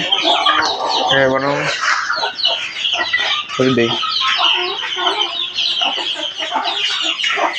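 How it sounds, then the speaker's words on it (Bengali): A rooster on a farm where Chinese ducks are also kept gives repeated clucks and short calls nearby, with other farm birds chattering and a person talking over it. "এখানে দেখতে পাচ্ছেন একটা মোরগ আমার"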